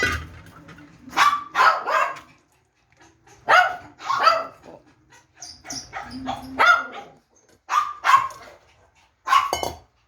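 Hungry dogs bark in repeated bursts at feeding time, close and loud, with short pauses between volleys and a few whimpers mixed in.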